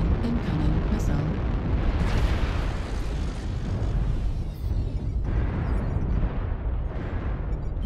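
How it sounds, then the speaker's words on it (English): Loud, dense roar of missile explosions and heavy combat blasts in the mech combat game MechWarrior Online, a continuous booming wash with rumbling bursts throughout. "Warning incoming missile."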